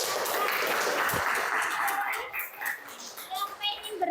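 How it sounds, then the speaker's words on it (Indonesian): Students clap in a vocational high school classroom, a loud burst of many hands that fades after about two seconds into scattered claps and children's chatter. "Ya, tepuk tangan."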